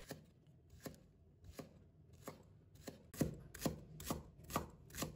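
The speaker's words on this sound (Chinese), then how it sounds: "把葱白切成小粒" A knife chops scallion whites into small pieces on a cutting board, about ten crisp, close chops that start spaced apart and quicken toward the end.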